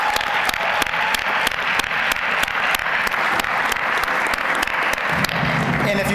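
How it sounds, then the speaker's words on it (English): Sustained applause from a large audience at an awards ceremony, steady dense clapping filling the space, with a low murmur of voices joining near the end. "let's give them a big round of applause."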